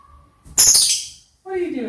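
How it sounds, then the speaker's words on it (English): A pet bird calls up close in a home, first a loud harsh squawk, then after a short pause a bright tonal chirp, both sharp and near. "What are you doing, you silly bird?"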